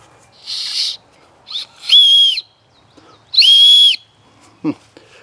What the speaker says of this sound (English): Okay, so I got a whistle.